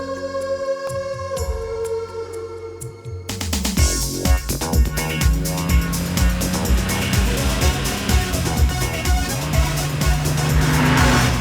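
A car, Tarzan the Wonder Car, starts up and drives with a rising engine note and tire squeals, all mixed with music and sound effects.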